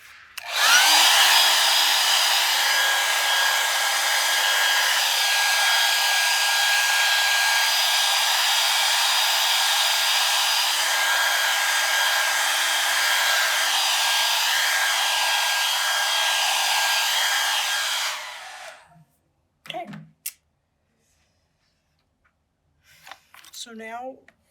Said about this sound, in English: which means the blow dryer again